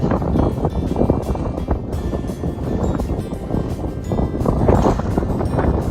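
Strong wind buffets the microphone on a snowy mountain hike, a steady, rough, low rumbling gusting throughout with no clear voices.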